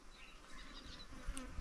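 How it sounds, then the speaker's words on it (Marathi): Honeybees buzz around a hive in a soft, continuous drone, faint and fairly close, with individual insects passing by. "एकदा तोंडावर बसायला लागल्या माश्या की मग आवरत नाही"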